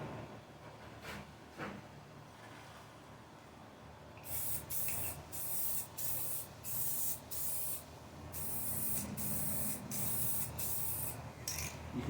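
Spray paint being applied in light coats to a custom Arrma Felony RC car body, with a quiet lead-in followed by a series of close, sharp aerosol hisses in short bursts and one longer pass.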